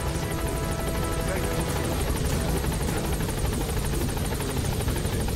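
Helicopter in the stealth action game Metal Gear Solid V: The Phantom Pain, a steady, loud rotor thrum with a dense whine that holds continuously throughout without breaks.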